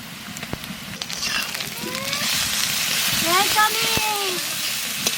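Onions fry in mustard oil with a continuous sizzling hiss that grows a little louder partway through. Brief clinks and a few high tonal sounds rise above the frying.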